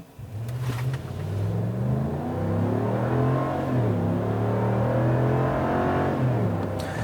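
A 2019 Ram 1500 pickup with a V8 eTorque engine accelerates hard, its engine note climbing steadily through the gears with audible shift dips. It stays close, loud and continuous, and no one speaks.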